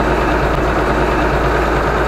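Steady low rumble of a tractor engine idling, close and loud, continuous with no talk; the machine is an Ursus 1204 or Zetor 25 farm tractor.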